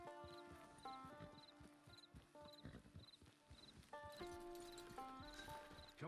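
A horse in the video game Red Dead Online trots with rhythmic clip-clop hoofbeats and a brief whinny, set against a layered game music score, fairly quiet and steady throughout.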